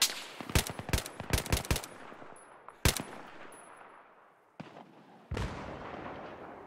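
Battlefield 3 gunfire: rapid bursts of automatic rifle shots in the first two seconds, then a single loud crack and scattered distant shots with fading echoes, ending in a sharp burst and lingering rumble, no voices.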